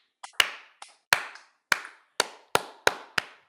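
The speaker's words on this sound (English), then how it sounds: "slow clap" A single person gives a slow clap, about seven sharp, close hand claps spaced unevenly with short ringing decays and quiet gaps between them.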